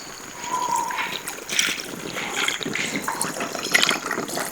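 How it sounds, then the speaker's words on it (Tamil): Water is poured into a pan of roasting mutton with spices, a soft steady trickle and splash at moderate distance, with no voices. "மட்டன் மூங்குற அளவுக்கு தண்ணி சேர்த்துக்கிறோம்."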